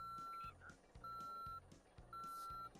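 A bus in the Motor Town driving game repeats its reversing alarm, with three or four steady electronic beeps at an even pace over a low rumbling engine.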